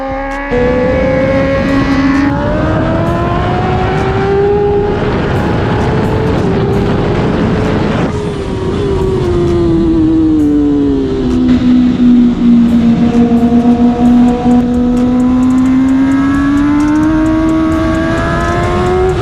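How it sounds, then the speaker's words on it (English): A Kawasaki ZX10R race motorcycle in a racing series engine drones loudly and continuously for nearly twenty seconds, pitch rising and falling through shifts and revs with no pauses. "The motor on the ZX10 is crisp and strong"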